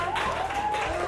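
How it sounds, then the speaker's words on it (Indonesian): A classroom of students claps briefly for a classmate, a short, close burst of applause with a faint murmur of voices underneath. "Beri tepuk tangan buat Cinta"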